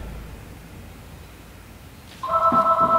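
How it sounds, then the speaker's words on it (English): A mobile phone starts ringing partway through, its steady electronic ring tone pulsing loud and close over a quiet background hiss. "Is that my phone?"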